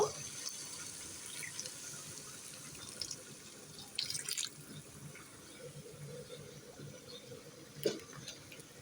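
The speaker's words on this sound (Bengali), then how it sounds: "এবার ফুটিয়ে রাখা পানিগুলো আমি ঢেলে দিব" Boiled water is poured onto soaked basmati rice for kacchi, giving a continuous, gentle splashing flow with a few louder splashes against a quiet kitchen background.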